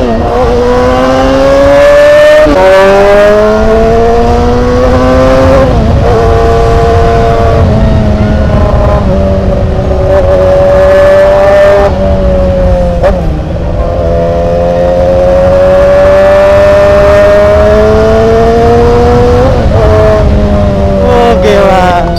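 A Yamaha YZF-R6 sport motorcycle ridden fast, its engine screaming loud and close as revs climb through repeated gear shifts, each rising whine dropping sharply at the change, with faint wind noise beneath.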